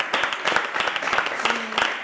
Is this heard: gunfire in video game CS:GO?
no